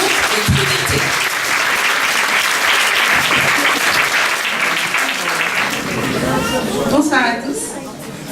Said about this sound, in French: Et on va les applaudir très fort.